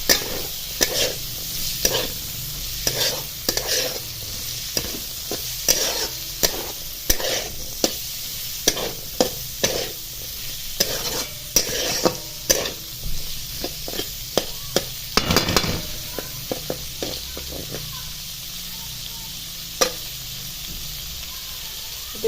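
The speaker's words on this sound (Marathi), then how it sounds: "चांगला हा मिरची मसाला हा लागला पाहिजे शेंगांना अशा पद्धतीने हलवून घ्यायचे" Broad bean pods fried in chili masala in a pan, stirred with repeated scraping strokes over a steady background sizzle, the clatter coming in irregular bursts throughout.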